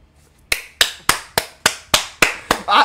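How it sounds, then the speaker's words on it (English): A single person claps nine times in a steady, evenly spaced rhythm while watching a show, each sharp clap close and distinct against a quiet background. "Why am I clapping every time something happens in these episodes?"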